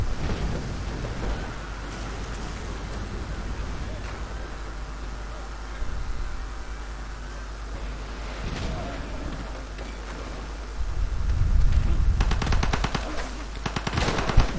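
Battle gunfire from the strategy game Civilization 5 crackles through a soft, rain-like noise bed during an attack on a city. A denser, louder burst of rapid shots comes near the end.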